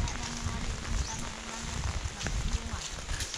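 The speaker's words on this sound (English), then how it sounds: "It's raining again guys." Rain falls during outdoor fruit tree planting, a soft steady patter and hiss on surfaces with faint low rumbles, fairly quiet throughout.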